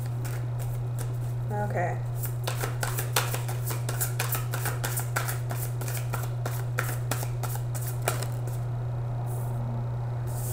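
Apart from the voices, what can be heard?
shuffling tarot cards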